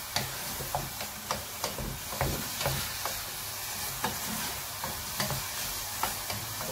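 Beef browning in a pot for Moroccan beef and vegetable soup, a steady close sizzle broken by rhythmic scraping taps of a stirring utensil, with no talking.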